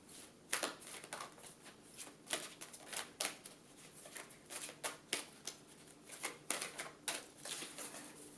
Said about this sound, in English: I'm going to shuffle these personality cards